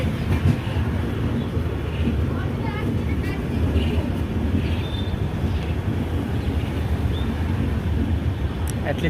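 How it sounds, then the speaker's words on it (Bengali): The Shalimar–Secunderabad AC express train slowly pulling out of the station, a low continuous rumble with faint rail clatter heard from close by, while people talk in the background. "ট্রেনটা আস্তে আস্তে ছাড়ছে।"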